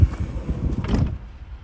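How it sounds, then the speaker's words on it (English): A Ford Tourneo Custom van's sliding door rolls along its track and thuds shut, one short movement close by. "Sliding door."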